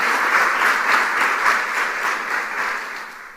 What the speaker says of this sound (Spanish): Entonces, denle ese aplauso.